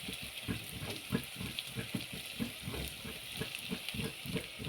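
Food fries in a pot while jollof rice is being cooked, giving a continuous close sizzle with a rhythmic pulsing crackle and no voices.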